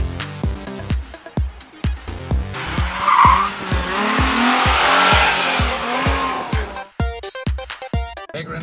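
A V8 rally car in Ireland slides around a corner, tires squealing and skidding in a long continuous screech under a roaring engine, framed by sharp gravel or gear knocks before and after.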